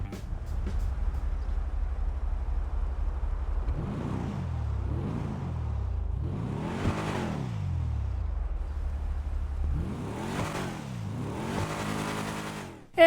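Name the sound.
Coil Brawler car engine revving in the GTA 5 video game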